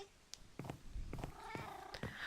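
A cat in the video game Minecraft makes a few short meows and purring sounds, spaced across a couple of seconds, clear and close, with no talking over them.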